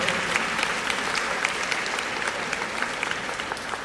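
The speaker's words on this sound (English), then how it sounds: "Can we give them a round of applause, please, as they're preparing?" A crowd claps steadily and loudly, a dense wash of applause that holds at an even level throughout without pause.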